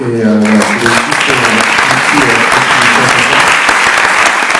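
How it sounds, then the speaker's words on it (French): Sustained audience applause at an entrepreneurship award event, loud and dense throughout, with a voice speaking briefly over the clapping at the start. "Donc si on peut l'applaudir parce que c'est énormément de boulot."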